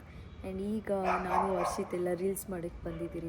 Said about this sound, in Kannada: ನಾಯಿಗಳು ಬೇರೆ ಬೊಗಳ್ತಾ ಇದೆ ಗೈಸ್ ಮೇಲೆ.